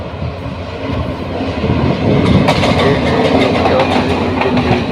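A local train rumbles past close by at Joydebpur railway junction, a loud steady roar with rhythmic clattering of wheels growing stronger partway through.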